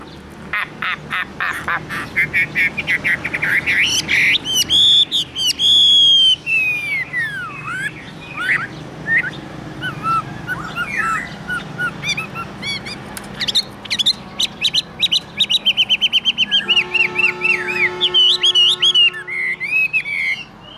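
A Chinese hwamei songbird sings in a long, loud, close performance of rapid whistles, sweeping slurs, trills and chattering mimicry phrases, broken by brief pauses, with no talking over it.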